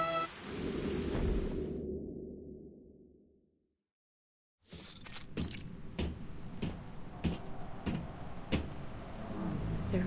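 Steady rain pours in a video game scene, cuts out to near silence, then returns with heavy rain and sharp crackling thunder cracks scattered through a continuous storm wash.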